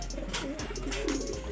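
A racing pigeon in a derby loft coos softly, a low repeated murmur that is close and steady against a constant background hum.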